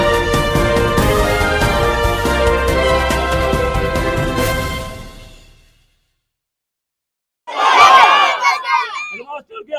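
A noisy crowd gathers inside a government middle school in Chilbilli, Phulwari Sharif, Patna, with dense overlapping voices and shouts for about five seconds before falling silent. A shorter burst of excited voices follows.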